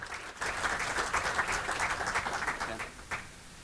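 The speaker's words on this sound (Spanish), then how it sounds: "Recibimos con un aplauso a Pablo Badenier, uno de los socios de País Circular." Seminar audience at an international COP25 event in Chile applauding to welcome a speaker, a moderate burst of crowd clapping that starts abruptly and holds steady before easing slightly near the end.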